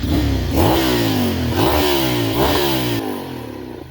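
A 2009 Ducati Monster 696 fitted with a Two Brothers exhaust revs up close, three sharp throttle blips rising and falling in pitch over a loud idle, then settling back outdoors in light wind.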